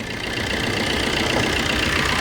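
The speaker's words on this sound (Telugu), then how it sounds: "ఇంజన్ సౌండ్ కూడా చూడొచ్చు." A used car's engine idles steadily at close range, a continuous low rumble with an even, slightly knocking texture and no voices.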